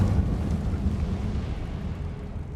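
An Incendio fire spell is cast in a video game, giving a steady, low roaring rumble like a burst of flame that holds at an even level for a few seconds, with no voices.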